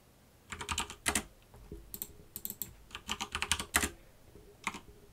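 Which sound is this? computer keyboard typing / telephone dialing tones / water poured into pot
computer keyboard typing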